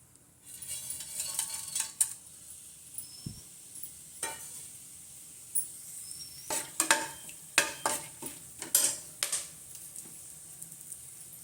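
Whole spices including bay leaf, cinnamon, cloves, cardamom, fennel and marathi moggu frying in about four spoons of oil for paneer pulao, soft sizzle broken by scattered metallic spoon scrapes and clinks against the pan, no talk.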